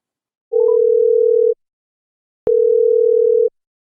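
A telephone connecting a call gives two steady, loud, one-second tones separated by a second of silence, with a few brief higher blips at the start of the first tone.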